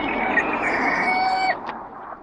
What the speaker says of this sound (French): un petit coq.